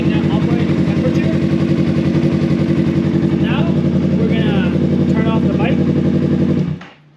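A 2015 Yamaha R3 sport motorcycle engine idles steadily and loudly at close range, a constant throbbing drone that cuts off abruptly near the end.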